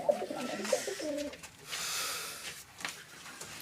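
Pet pigeons coo softly at close range in a home loft, several low, rolling coos repeating over a quiet background.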